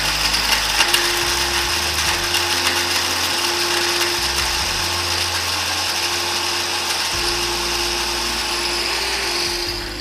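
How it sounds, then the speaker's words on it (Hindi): An electric grinder whirs continuously, grinding whole spices such as green and black cardamom into powder for mandi, a steady loud mechanical drone with a rattling, ratchety texture and slight pitch shifts, with no talking. "इस मसाले को ग्राइंड करना है"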